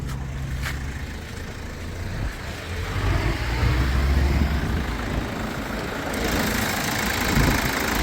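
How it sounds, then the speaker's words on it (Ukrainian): A seven-seat crossover's engine idles steadily at close range, a low continuous rumble with a slight rise in level partway through, and no talking. "Чиста робота двигуна, ніде нічого не капає"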